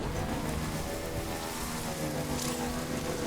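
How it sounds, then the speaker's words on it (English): Steady rain falls in the video game Death Stranding, a dense, even hiss of drops layered over low ambient rumble and a faint droning tone, with no talking. "Here comes the damn rain."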